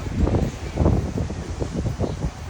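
Gusty wind by the sea at Imeretinka in Sochi batters the microphone in continuous low, rumbling buffets that swell and ease without a break.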